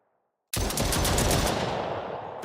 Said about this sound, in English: we have this pistol right here as well. Which, let's see. Oh, okay, yeah, you can shoot that fast.